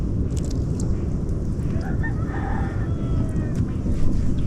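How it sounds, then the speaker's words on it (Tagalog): A rooster crows in the distance over a steady rumbling background noise, with a faint voice occasionally audible. "Narinig ang tilaok ng manok"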